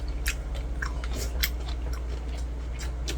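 Someone chews fresh wild aralia shoots (ttang-dureup), giving soft, repeated crunchy bites that sound close and fairly quiet, with no talking.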